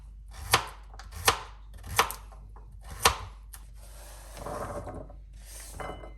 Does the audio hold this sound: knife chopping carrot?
yes